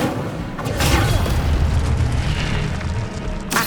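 Incendio fire spell blast in the Hogwarts Legacy video game: a loud, sustained whooshing burst of flame with a rumbling low end lasting a few seconds.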